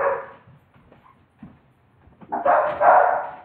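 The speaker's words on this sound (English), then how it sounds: "excuse my dog." A dog barks and whimpers close by in a few short bursts, quiet yips early on building to a louder, sustained stretch of barking near the end, with no talking.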